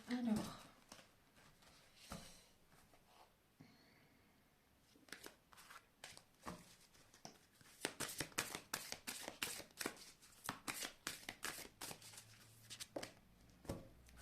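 Tarot cards riffled and shuffled close by, a long run of quick crisp rapid bursts that grows denser and louder toward the end, with brief spoken moments early on.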